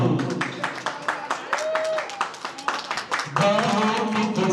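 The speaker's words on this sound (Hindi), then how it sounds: "थोड़ी तालियां बजाएं" An audience claps steadily at a retirement party in a hall, rhythmic hand claps under loud talk and music, with the clapping continuing throughout.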